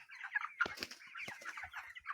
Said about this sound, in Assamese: এইটো মুৰ্গী চাওক দেখিছেনে